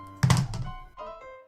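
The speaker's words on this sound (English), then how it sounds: "we were woken up by a thud on the table" A single dull thud of something dropped onto a table, a short soft impact followed by faint ringing tones.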